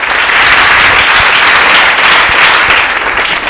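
Standing ovation for a late comedian at a tribute gathering of artists in Lubumbashi, with dense, loud applause from a large audience sustained throughout and no speech over it.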